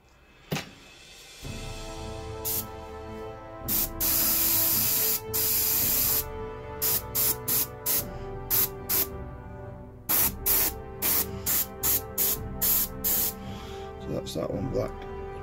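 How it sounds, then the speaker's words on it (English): An airbrush sprays black paint onto a Forgeworld Custodes Caladius Annihilator Grav Tank model in repeated hissing bursts, first longer blasts then a quick run of short puffs, close and loud. "That one needs some more paint in my airbrush."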